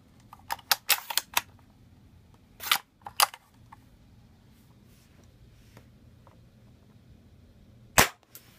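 A JG M70 airsoft rifle fires single shots through a chronograph: a quick run of sharp cracks early on, two more a moment later, then a long quiet pause before a final loud crack.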